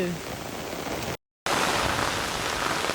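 Heavy rain pours steadily in a dense hiss, briefly cut to silence for a moment before resuming just as loud.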